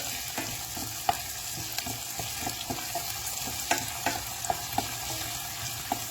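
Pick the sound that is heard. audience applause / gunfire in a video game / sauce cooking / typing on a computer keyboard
sauce cooking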